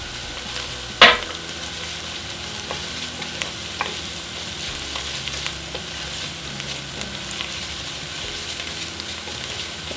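Garlic sizzles in a hot pan for tomato soup, with a sharp clatter at the start as it drops in, then a steady, soft frying hiss under light stirring scrapes and small clicks.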